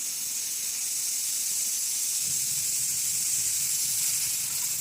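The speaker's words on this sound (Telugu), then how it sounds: "కుక్కర్ మూత పెట్టేసి నాలుగు నుంచి ఐదు విజిల్లు వచ్చే వరకు మనము ఉడకనివ్వాలి" Steady, continuous steam hiss from a pressure cooker of Telangana-style spicy mutton curry on the stove, loud and even throughout with no voices.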